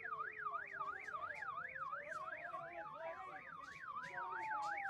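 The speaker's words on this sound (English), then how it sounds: "Holy shit, the siren thing. I don't know who could sit around with that thing nonstop just going off." Police sirens wail without pause at a protest during an LA police chase: a fast, steady yelp rises and falls while a second siren sweeps slowly up and down, somewhat distant and continuous.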